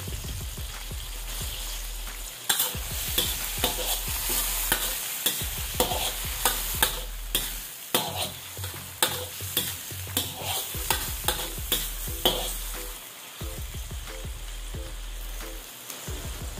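Stir-frying in a pan after soy sauce and crushed peppercorn go in, with a steady close sizzle broken by repeated scraping stirs of a spatula, rhythmic and loud throughout.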